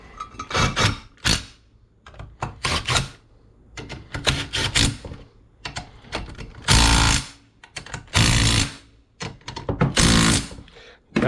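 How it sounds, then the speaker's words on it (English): Repeated clicking and ratcheting of a torque wrench tightening bolts on a Ford, in short loud bursts separated by brief pauses, with someone talking in between. "That, folks, is torqued properly to spec without question."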